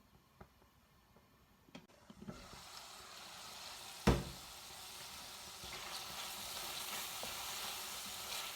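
Onions frying and being stirred in a pan before the spices go in: a steady sizzle that builds after a few quiet seconds, with a sharp utensil knock against the pan partway through, then continuous crackling.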